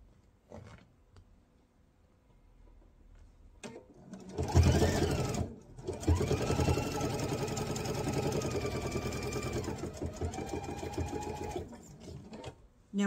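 Sewing machine stitching a mesh tote bag, taking a few stitches then reversing to reinforce: a close, steady mechanical whir that starts after quiet handling sounds, runs for several seconds with pitch shifts, then stops.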